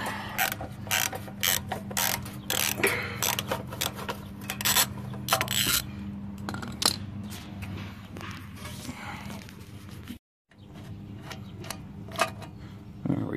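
Wrench ratcheting a small bolt off a lawn tractor exhaust, repeated clicking pawl strokes and metallic scraping in uneven bursts, close up, with a brief break near the end.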